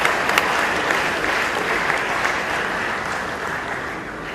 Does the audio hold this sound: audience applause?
yes